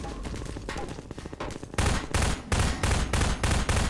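Rapid bursts of automatic gunfire from the video game Half-Life 2, loud and close, with dense repeated volleys that intensify in the second half and come in sharp clustered blasts.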